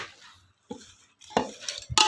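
Mutton being mixed by hand with spice powders and oil for biryani in a pot, heard as intermittent stirring and scraping bursts with short pauses, close and fairly loud.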